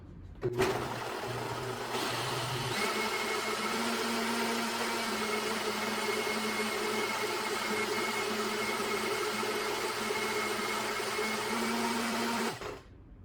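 Blendtec blender running on its automatic smoothie setting, a loud steady motor whir with shifting pitch that starts abruptly, holds evenly for about twelve seconds, then cuts off.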